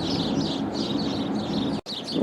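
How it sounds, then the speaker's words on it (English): A flock of persistent birds chirps and tweets nonstop at a warehouse storage facility, dense overlapping calls close by with a brief drop near the end. "along with a bunch of birds that won't go away"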